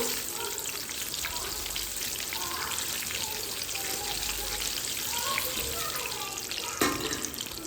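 Lentils, mustard seeds and cumin sizzle steadily in hot oil for a South Indian tempering, a dense continuous frying hiss that runs throughout with a sharper click or pop near the end.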